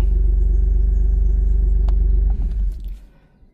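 An Alfa Romeo Giulia Quadrifoglio engine running with a deep, loud, steady rumble close by, then tapering off near the end with a brief mechanical click partway through.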